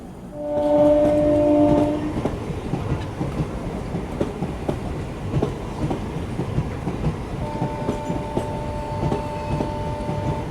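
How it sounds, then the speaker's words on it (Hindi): A passenger train pulls into Samastipur station in India, its horn sounding loudly at first, followed by steady rolling wheel clatter and rumble of carriages, with a second long horn blast later; no talking. "कोई पैसेंजर ट्रेन भी आ रही है। ये आ गई पैसेंजर ट्रेन।"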